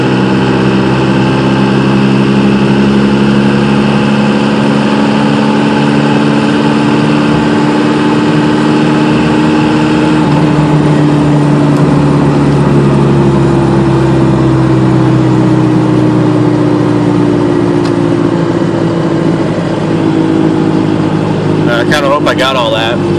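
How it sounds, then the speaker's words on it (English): Diesel truck with an HE351VE turbo run by a Banshee stand-alone controller pulls onto the interstate in third gear at 35 pounds of boost, a loud steady engine drone with rising harmonics that continues throughout. "hit 35 pounds, third gear, accelerating onto the interstate"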